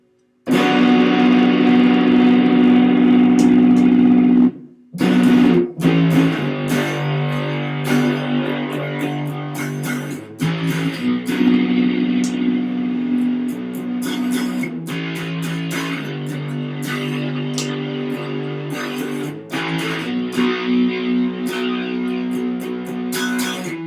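An electric guitar, an ES-335-style model on its bridge pickup, plays sustained chords and riffs with some effects in a bright, twangy tone, loud and steady throughout.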